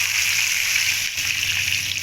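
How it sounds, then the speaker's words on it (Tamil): One cup of milk pours steadily into a pan while bread halwa cooks, a continuous close splashing stream with a brief dip partway through. "இப்போ இது கூட நம்ம 1 கப்பு பால் சேர்த்துக்கிறோம்"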